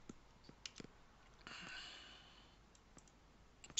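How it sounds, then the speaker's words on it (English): Sharp, faint computer mouse clicks tap out one by one in a quiet room during EVE network lab management, with a soft hiss in between. "So I'm clicking"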